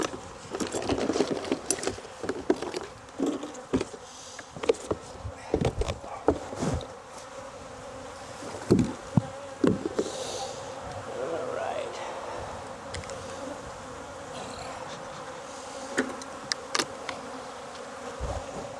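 Honeybees buzz steadily around a hive being relocated in Jacksonville, Florida, a continuous swarm drone close by with scattered clicks and handling knocks, with faint talk at times.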